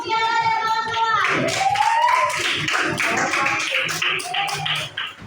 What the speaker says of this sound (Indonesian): Tepuk tangan untuk kelompok mutiara dan kawan-kawan.